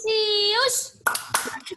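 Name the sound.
children clapping the Canisius clap chant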